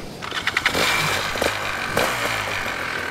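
An aircraft propeller engine cranks and fires up for a tandem flight, with a few sputtering pulses that settle into a loud, steady, close roar.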